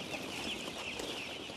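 Newly hatched chickens in an indoor brooder make a faint, continuous chorus of high cheeping and soft clucks, many birds overlapping with no talk.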